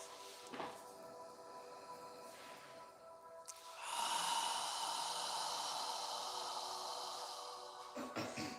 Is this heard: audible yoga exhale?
yes